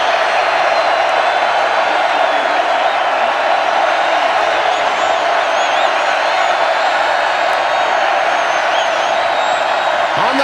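Stadium crowd at a college football game between Missouri and West Virginia roaring and cheering steadily, a dense continuous wash of voices and whoops from a large but thinned-out crowd, heard at a distance without pause.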